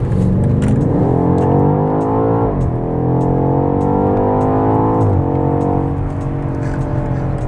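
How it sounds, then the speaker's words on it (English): A 2021 BMW X6M Competition SUV accelerates hard through several gears. The engine and exhaust rise in pitch, drop at each upshift, then climb again, loud and close. "The exhaust is not that loud, I could say."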